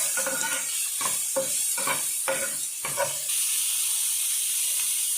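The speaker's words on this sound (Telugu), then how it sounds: "బాగా వేయించుకోవాలి." Chopped onion frying in a pan for gongura egg curry, with a steady hissing sizzle broken by several scraping stirs in the first three seconds, then continuous sizzle alone.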